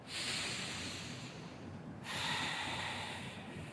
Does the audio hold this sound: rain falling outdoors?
no